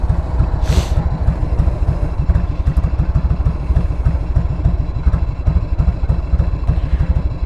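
Harley-Davidson motorcycle engine idling rich with the fuel enrichener half on during carburetor tuning, a loud, close, lumpy loping beat with uneven firing pulses and mechanical clatter.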